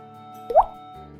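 A single short watery plop from the Water Gun move in the video game Pokémon Pokopia, heard once over steady game background music.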